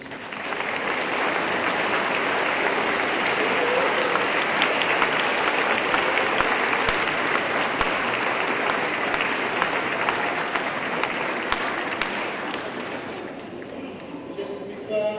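A church congregation at a First Communion Mass applauds the choir with steady, dense clapping that holds at full strength for about thirteen seconds, then thins out and fades near the end.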